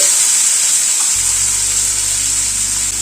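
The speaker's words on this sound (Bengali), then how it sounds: "মশলাটাকে একটুখানি ভেজে নিচ্ছি।" A spice paste of garlic, tomato and coriander stems fries in a pan with a loud, continuous hissing sizzle, and a low steady hum joins partway through.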